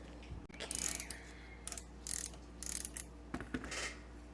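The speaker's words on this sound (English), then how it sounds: "there's a couple little screws down here in a bracket. So I'm going to take those off" Small bracket screws come out of a Kenmore 117 mixer motor, giving quiet close ratcheting clicks and short bursts of screwdriver turning, several brief spurts with pauses between, faint against a low steady hum.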